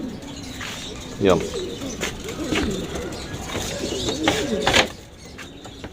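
Pigeons coo repeatedly in a loft, their throaty calls close and clear, with scattered chirps and a brief wing flap, while someone speaks over them.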